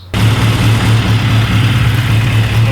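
A Mini car engine idles steadily at around 900 to 1,000 RPM after starting up, loud and close with an even low rumble throughout and no talking.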